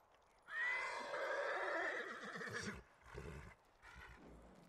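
A horse neighs loudly in Ghost of Tsushima, a long shrill whinny that rises and trails off over a couple of seconds, followed by shorter snorting breaths and quieter sounds.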